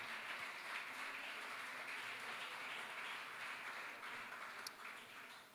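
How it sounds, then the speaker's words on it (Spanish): A church congregation applauds during a sermon, with steady, sustained clapping from many hands filling the space evenly throughout, fading only slightly toward the end. "Den un aplauso al Señor"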